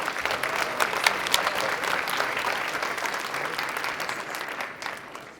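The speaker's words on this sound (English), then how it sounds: "give him a round of applause" A room full of guests applauds Marty Pastura at his retirement party, dense sustained clapping with sharp individual claps standing out, steady and fairly close, easing slightly toward the end.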